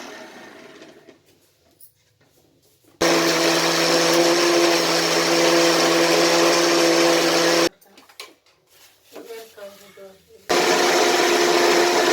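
An electric mixer grinds roasted garam masala spices, onion, garlic and ginger into paste, a loud steady whirring drone in two long bursts separated by a pause where people talk nearby.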